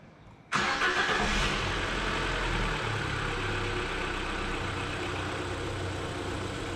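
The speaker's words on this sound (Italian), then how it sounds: "questo è il primo avviamento che faccio, eh, dopo aver sostituito la cinghia di distribuzione" A Fiat Bravo T-Jet engine cranks and catches after a brief quiet moment on its first start after a timing belt replacement, then settles into a steady, close idle that runs on evenly.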